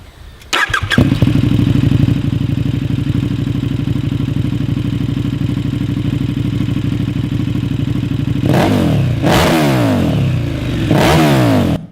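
A KTM motorcycle fitted with an Austin Racing exhaust and catalytic converter fires up and settles into a loud, steady idle, then two sharp throttle revs rise and fall near the end, close and alone.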